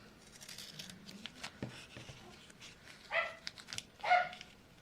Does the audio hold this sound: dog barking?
yes